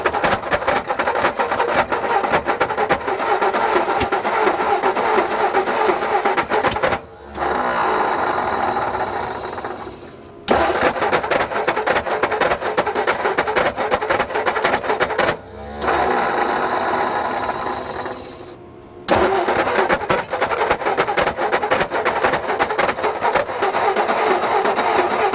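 A 1960 Ford F-350 engine, revived after 34 years, cranks and fires loudly and steadily with a harsh mechanical clatter, dropping out briefly a few times before catching and running again.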